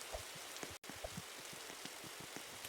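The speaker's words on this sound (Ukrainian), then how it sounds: "Дощ і падає" Rain falling in the Roblox game 99 Nights in the Forest, a steady soft patter of drops with a few louder splats, continuous throughout apart from a momentary dropout.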